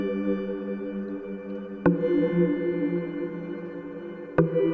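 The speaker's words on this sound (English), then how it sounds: "At the top in blue, I have a synth track which sounds like this." A long sustained synth track playing in Studio One, its held tones droning steadily with two sharp clicks marking the changes between chords.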